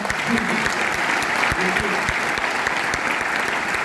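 An audience at a marketing seminar claps loudly and steadily, a dense, continuous roar of applause with occasional voices beneath it.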